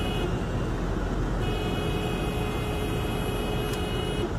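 Steady street traffic of cars going by, a loud continuous road wash with a faint horn-like tone and a brief sharp click near the end, no voices.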